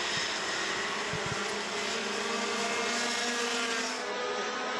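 Rotax racing kart engines scream through a race at a European circuit, a dense, loud high-pitched buzz that stays continuous and close throughout.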